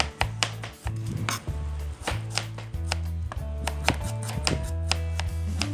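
Knife chopping mango and shallots on a cutting board for a spicy Thai-Lao mango salad, rapid uneven thuds close by, with no talking.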